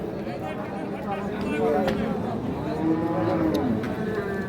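A young Sahiwal bull or cow lows at a busy Bangladeshi cattle market, two drawn-out moos rising over a constant crowd murmur and nearby voices.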